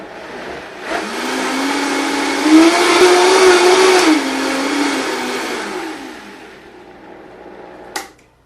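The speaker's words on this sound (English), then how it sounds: "So you just blend these until they're creamy." A blender purees roasted tomatoes for canning, a loud steady whirring motor that rises in pitch for a few seconds then winds down, running alone for about six seconds before stopping with a brief clunk.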